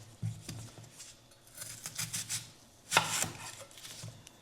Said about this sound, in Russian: Мы режем на маленькие квадратики кубиками.